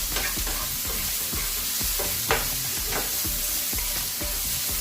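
Bibimbap ingredients seasoned with salt and pepper are stirred in a hot pan, with repeated scraping strokes of a utensil over a constant close sizzle, roughly two or three stirs per second.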